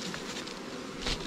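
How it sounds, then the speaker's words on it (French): Honey bees in small nucleus hive boxes buzz steadily at close range, a dense insect hum that swells briefly near the end. "c'est les paquets d'abeilles qu'on a mis dans des ruchettes il y a 3 jours."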